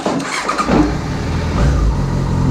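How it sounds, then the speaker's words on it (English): A Yamaha FZ6 motorcycle, just restored, cranks and catches, then settles into a close, steady running engine note right after the start. "Gonna get this bike started."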